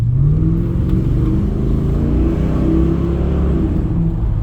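A Chevrolet Impala SS engine revs and pulls away, a loud, close, steady mid-range roar of acceleration that holds for several seconds with no voices over it.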